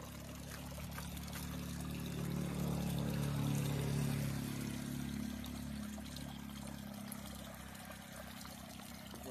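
A perennial mountain spring in Jalav ghat pours and trickles steadily nearby, a continuous close stream of water that swells briefly in the middle, with no talk over it.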